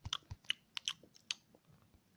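A character in a survival video game eats, making a quick run of crisp, close chewing crunches on their own with no voice.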